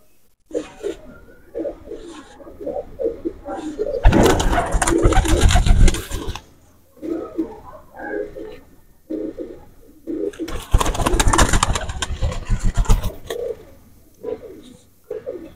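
A female teddy pigeon coos in soft, repeated low calls, broken by two louder, fuller bursts of cooing, close and clear with no talking.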